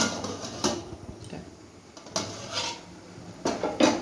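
A metal lid set onto a cooking pot of yellow Gobindobhog rice pulao on a gas stove, giving a few sharp clanks and clinks spaced apart, close and fairly loud with no talk.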